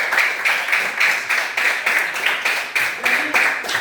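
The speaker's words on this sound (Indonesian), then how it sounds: "Oke, tepuk tangan semua." A classroom of students applauding during an arts and culture lesson: steady rhythmic hand clapping from many people at once, close and fairly loud, with repeated bursts carrying on throughout.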